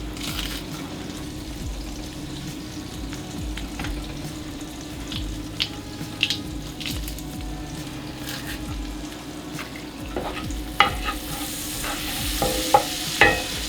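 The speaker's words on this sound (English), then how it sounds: "I have my cast iron skillet heating up. I'm going to add the onion with some oil" Onion and garlic cook in oil in a hot cast iron skillet, a soft continuous sizzle with intermittent scraping and stirring clicks from a utensil throughout, fairly quiet and with no voices.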